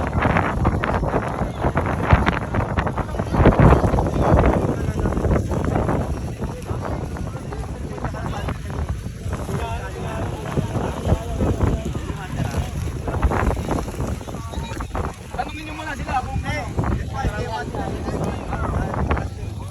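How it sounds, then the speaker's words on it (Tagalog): Strong wind buffets the microphone in a steady roar at a kite-flying gathering in Muzon, Malabon, with gusts rising and falling throughout and people talking underneath. "Lakas ng hangin, parang bagyuan."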